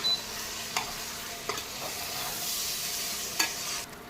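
Chana masala stirred and fried in a pan, with a low steady sizzle and a few sharp scrapes of a spoon against the pan spread through the stretch, fairly quiet and close with no talk.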